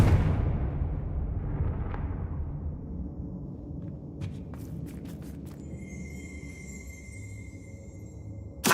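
A Confringo fire spell explodes in the Hogwarts Legacy video game, with a loud booming burst at the start that fades into a long rumble. A few sharp crackles follow, then a high shimmering magical tone.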